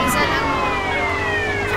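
A police siren from the video game GTA San Andreas wails steadily through the whole stretch, its sliding tones loud and close over dense game background noise.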